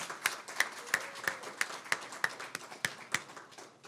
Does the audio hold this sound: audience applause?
yes